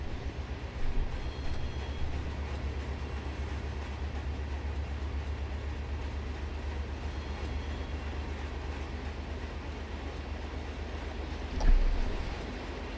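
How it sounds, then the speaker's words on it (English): A model train passes at a distance on a layout, a steady low rumble with soft clickety-clack of wheels on rail joints and a brief louder clatter near the end. "There's the other train at Puente."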